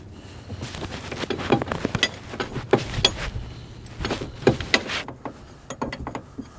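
A hydraulic hose fitting on a drive conversion kit is wrenched loose, producing close, irregular metallic clicks, ratcheting knocks and scraping taps in uneven bursts, with no one talking.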